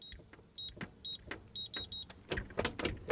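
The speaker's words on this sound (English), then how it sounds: "I can hear the click, but it's not opening." A Harbor Freight gun safe's electronic lock gives a string of short, high keypad beeps, then a few sharp clicks and a brief whir as the lock tries to release without opening. The sounds are close and there is no talking.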